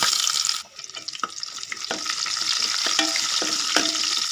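Mustard seeds and chopped garlic sizzle and pop in hot oil in a pan on the stove, a dense steady frying hiss with sharp crackles scattered throughout, close and fairly loud, with no voices.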